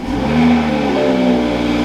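A 2021 Toyota Supra with about 1,000 miles runs while driving, its engine a loud, close, steady drone whose pitch rises and holds through the whole stretch, with no voices over it.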